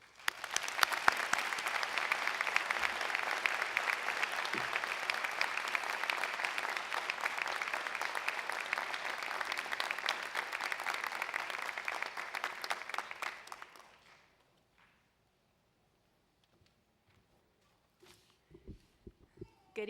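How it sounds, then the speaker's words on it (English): A commencement crowd at the UIC Honors College winter ceremony applauds an honoree, many hands clapping loudly and steadily for about thirteen seconds before fading to near silence, with faint stirring afterward. "please join me in a robust round of applause congratulating our honoree, Anna Petrovich."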